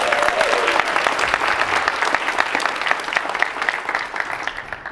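A conference audience at a social media marketing keynote gives a steady wash of applause throughout, dense and sustained at close range with no speech over it.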